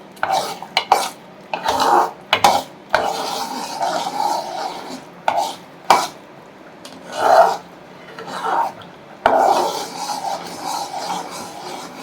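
Garlic lehyam halwa with oil being stirred in a pan, made with garlic and palm jaggery: repeated scraping and rubbing strokes of a spoon against the pan in uneven bursts, fairly close, with no talk.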